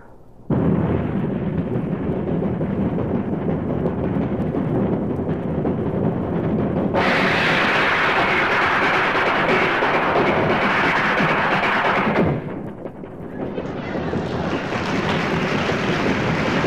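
A voice imitates people passing between moving train cars: a sustained loud rushing roar of wheels and wind that jumps brighter and louder as the connecting door opens, then dips and swells again.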